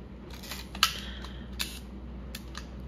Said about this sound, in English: Okay, so shutter works fine.